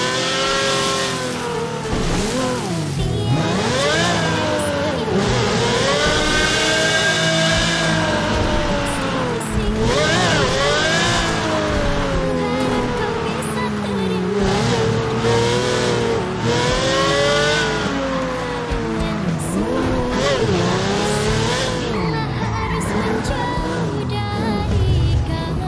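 A car drifting with repeated rising and falling tire squeals over a revving engine, loud and close for the whole stretch, with voices shouting now and then.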